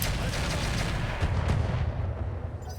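Artillery fire in a war video game rumbles as continuous heavy booms and blasts, with a louder concussive burst midway, dense and loud throughout.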